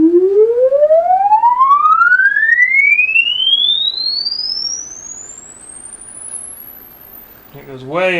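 Memorymoog synthesizer note with a long attack, a pure tone sweeping steadily upward in pitch over several seconds and thinning out at the top, loud and close, then a brief wobbling sound at the end.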